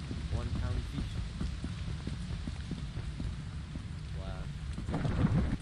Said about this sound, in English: Is it always raining the first time you go here?